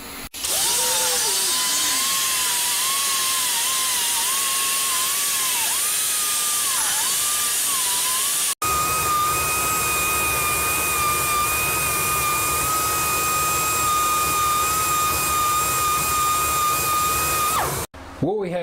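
Air grinder fitted with an 80 grit sand roll porting the chamber of an iron cylinder head for a 289 small-block Ford, a loud, sustained high whine that wavers in pitch under load, with a brief break midway.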